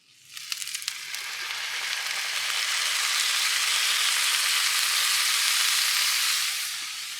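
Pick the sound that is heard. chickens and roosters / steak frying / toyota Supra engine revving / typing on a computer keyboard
steak frying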